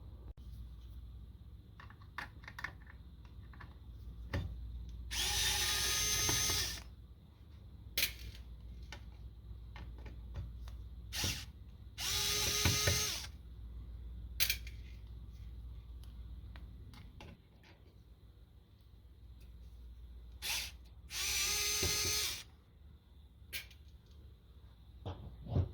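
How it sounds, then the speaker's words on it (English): Screws come out of the side panel of a Kenwood TS-520 radio, with small clicks and ticks and three bursts of loud whirring from a screwdriver, spaced apart in a quiet room. "We're going to remove these 3 screws"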